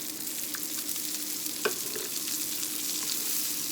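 Diced onion frying with bacon and radishes in a pan, a steady, even sizzle throughout with a single faint clink near the middle and no talking.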